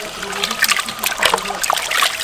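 Water splashing and trickling as chunks of pork head meat are rinsed in a cooking pot, a short stretch of wet sloshing and dribbling at close range.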